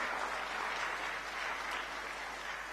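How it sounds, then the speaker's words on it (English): Steady audience applause fills a hall at the South India Media Summit in Coimbatore, a dense, even wash of clapping with no speech over it across the whole stretch. "A bigger round of applause."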